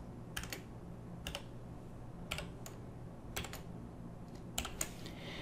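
Computer keyboard keys tapped in short, irregular bursts while a CAPTCHA is entered during account registration, crisp clicks close to the microphone over a low steady background hum, with no talking.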